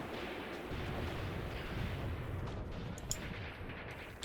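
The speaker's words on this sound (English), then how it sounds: "And somebody's shooting at their field guns." Distant artillery fire against field guns in the Graviteam Tactics war game, heard as a continuous low rumbling roar of shelling with one sharper crack near the end, and no voices.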